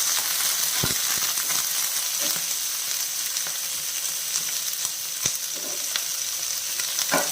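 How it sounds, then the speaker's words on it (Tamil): Crushed garlic, green chillies and onion sauté in a pan with a continuous bright sizzle, broken by sharp clicks and taps of a spoon against the metal throughout, and no one speaking. "இடித்து வச்சுக்கூடிய பூண்டை சேர்த்துடலாம். பச்சை மிளகாய், வெங்காயம் எல்லாமே சேர்த்து வதக்கிடலாம்."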